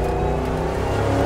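Supercharged V8 of a 2011 Ford Mustang GT500, tuned to 550 horsepower, roars with a steady, loud, rich rumble throughout, its low engine harmonics holding constant without any voices.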